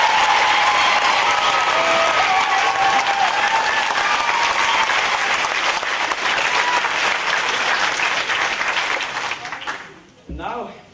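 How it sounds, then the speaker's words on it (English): Sustained theater audience applause for the orchestra at a 1998 Fiddler on the Roof production, dense and loud with a few whistles and cheers, running steadily before thinning and dying away near the end. "Just a round of applause for the orchestra"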